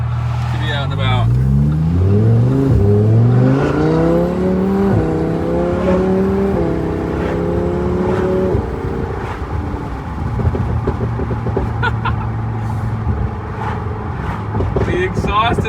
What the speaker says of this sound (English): The exhaust is nuts.